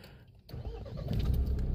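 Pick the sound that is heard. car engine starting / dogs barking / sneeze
car engine starting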